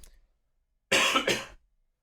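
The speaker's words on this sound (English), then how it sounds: "That was not a corona cough." A single close, sharp cough in two quick bursts breaks a quiet room, followed by silence.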